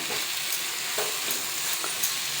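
Spices for chana masala with chilli powder and coriander leaves frying in a pan, an even, close sizzle with light stirring scrapes and clicks throughout, no one speaking.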